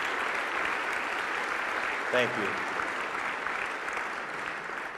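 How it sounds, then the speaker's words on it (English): Audience applause for veterans at a county State of the County address, a continuous even wash of clapping with a voice briefly speaking over it midway. "Would you please give them a round of applause?"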